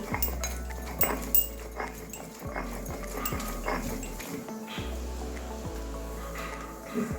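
Prawn heads and cauliflower stalks are ground by hand on a small grinding stone: a slow, steady rhythm of rubbing, scraping strokes with occasional dull knocks of stone on stone, close up and alone.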